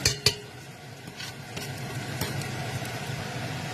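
Oil sizzles and crackles steadily as bananas fry in a pan, with a couple of sharp clinks at the start and faint kitchen background noise.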